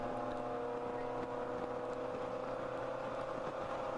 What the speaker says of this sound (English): I can hear an engine noise there,